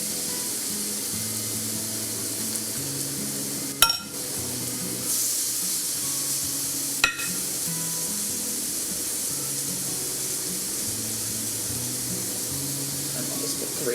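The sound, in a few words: spinach burger patties frying on non-stick cooktop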